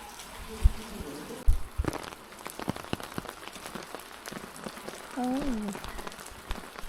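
Light rain falling outdoors at a riverside hillside stop between Paro and India in Bhutan, a soft hiss with scattered drip taps, faint throughout, with a brief voice-like tone near the end.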